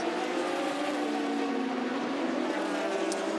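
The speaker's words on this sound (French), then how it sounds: "C'est la Ford GT AM engagée par le Keating Motorsport, Ben Keating." A Ford GT racing in the GTE-Am class for Keating Motorsport at the 2019 24 Hours of Le Mans gives a steady, continuous engine roar with a faint broadband rush behind it, and no voices.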